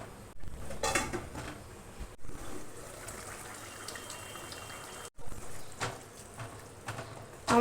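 A lid goes onto a pot of potol chingri, a pointed gourd and shrimp curry, on a medium gas flame: sharp metallic clanks and clatters ring out between quieter stretches of faint kitchen noise.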